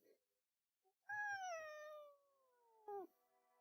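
A small, fully grown four-year-old female cat lets out one long, drawn-out meow that slides downward, followed by a short chirping meow, faint and close in a quiet room.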